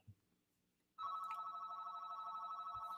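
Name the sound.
telephone ringing in the background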